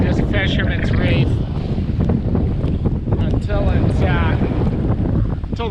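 A squall's wind roars across a sailboat at sea, with loud, gusty buffeting on the microphone and rushing water beneath; a voice talks briefly under the noise.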